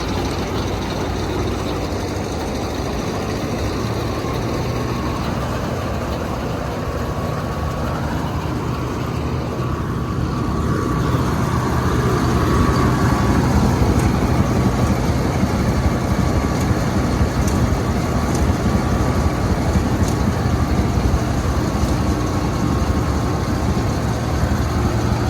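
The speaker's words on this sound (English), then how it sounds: "Rev it up some more." A combine harvester's engine runs loud and close, a steady heavy rumble that climbs to a fuller, stronger roar partway through and holds there without talk.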